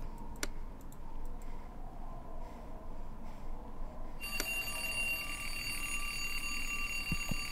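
An alarm clock in an indie horror video game suddenly starts ringing, a steady bright electronic tone over a low ambient hum, preceded by a few faint clicks.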